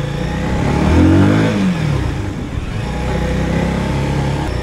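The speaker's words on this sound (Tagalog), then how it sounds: "First time kong gumamit ng sports bike." A 300cc FKM sports bike motorcycle engine revving close by, with a rising then falling sweep near the start that settles into a steady running drone.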